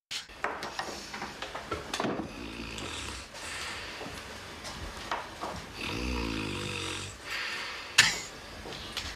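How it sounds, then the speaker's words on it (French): Loud, rhythmic snoring from a sleeping person, several deep rasping breaths with snorts in between and a sharp click near the end, close and clear with no talking. "Oh là, le ronflement de néolithique."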